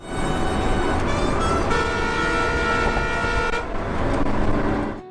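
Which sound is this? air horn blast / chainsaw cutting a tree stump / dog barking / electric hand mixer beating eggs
air horn blast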